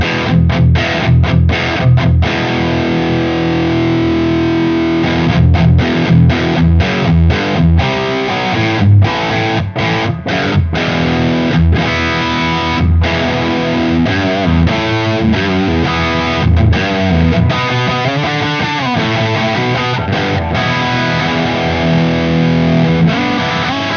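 A heavily distorted electric guitar through a Synergy Fryette Deliverance preamp plays chugging riffs and sustained chords, thick and loud, with sharp stops between bursts and no voices.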